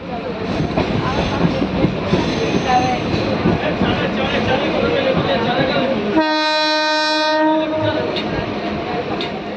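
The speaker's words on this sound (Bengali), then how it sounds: "ওই যে ট্রেনটা আসছে" A train arriving at a station rumbles loudly nearby, then a long harmonic horn blast sounds for over a second before the rolling clatter continues.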